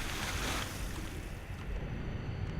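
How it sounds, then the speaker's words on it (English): Water in a castle in the game Legend of Grimrock II, heard as a continuous loud, broadband rushing wash with no breaks, steady throughout, without any talking. "There is water"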